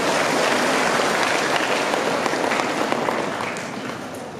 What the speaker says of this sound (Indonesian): mohon juga tepuk tangan kepada orang tua